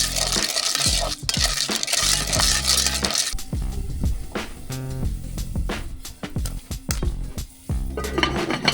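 Popcorn kernels stirred with oil, salt and chili in a pot, a dense rattling, clinking rush of hard kernels against metal, loud and close, with sharp chinks and scrapes throughout.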